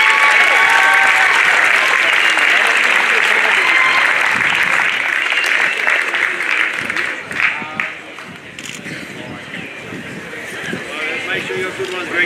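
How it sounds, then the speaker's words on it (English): Loud, dense applause from a crowd at a girls' under-19 football grand final presentation, sustained for several seconds, then thinning into scattered claps and murmuring voices toward the end. "can we please have another round of applause for Calder United?"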